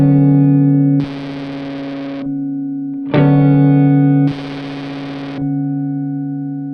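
An Akkusativ effects pedal plays a sustained guitar chord loop that flips twice from a clean tone to a harsh, buzzy, distorted layer and back, with a bright strummed attack in the middle, loud and alone.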